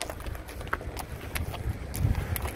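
Horse hooves clip-clop steadily on hard ground during a ride into Petra, up close and continuous, with no talk.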